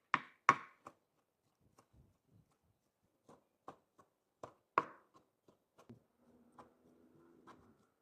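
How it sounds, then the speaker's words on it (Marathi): Knife strikes a cutting board in sparse, uneven taps as cooked chicken is chopped into small pieces for manchow soup, a few louder knocks at first, then lighter quick chops. "आपण आता हे चिकनचे अजून बारीक पीस करून घेऊ।"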